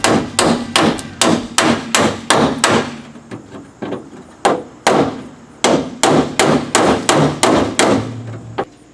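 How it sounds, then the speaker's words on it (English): A hammer strikes sheet metal backed by a dolly on a 1965-1970 Mustang fuel tank, about eighteen sharp, ringing metallic blows in quick bursts with short pauses, close and loud, with no talking. "So I'm gonna grab a hammer and dolly and just put a dolly back here"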